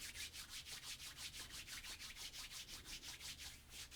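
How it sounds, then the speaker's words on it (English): Hands rub briskly over skin during a warming self-massage of the hand and fingers, a steady back-and-forth swishing repeated about five times a second, close and soft, with no talk. "start rubbing on the top of the hand, fingers, warming things up a little bit"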